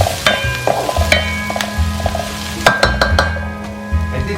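Chopped curry leaves land in hot oil for a mushroom cutlet mix, giving a steady close sizzle and frying hiss, with a spoon stirring and clinking against the pan now and then.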